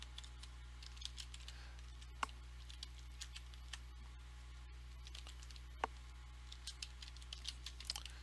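Faint, irregular clicking of fingers typing on a computer keyboard during a server setup, scattered keystrokes over a low steady hum.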